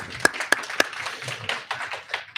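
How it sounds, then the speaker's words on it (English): A brief round of applause at a school board meeting, starting with a few sharp separate claps and then settling into light, scattered clapping from a small crowd. "round of applause if we could."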